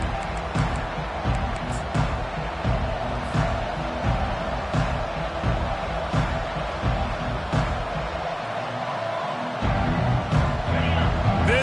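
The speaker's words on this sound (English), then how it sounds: "This crowd bringing an ear-splitting welcome to their visitors." A stadium crowd at a San Diego vs Ole Miss college football game keeps up a loud, dense roar of cheering throughout, with a commentator's voice over it.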